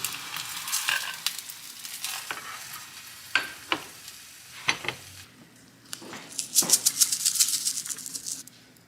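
Crispy eggs frying in a pan with steady sizzle, sharp clinks of a utensil against the pan and brief scraping stirs, with a louder burst of spattering near the end.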